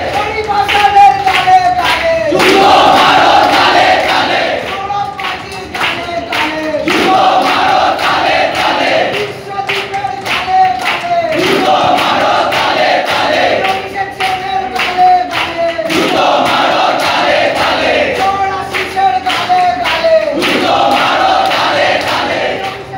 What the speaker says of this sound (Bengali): অভিযুক্তদের দেখা মাত্র জুনিয়র চিকিৎসকেরা রীতিমতন ক্ষোভে ফেটে পড়েন। তারা স্লোগান দিতে থাকেন।